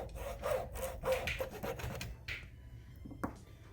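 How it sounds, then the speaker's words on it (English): Hand-cutting the flared flange off a rubber intake boot on an Arctic Cat M8000 snowmobile during a reed install: a series of close, uneven scraping and sawing strokes, a few sharp bursts, then quieter rubbing. "on your intake boot here, we're gonna have to do a little bit of cutting"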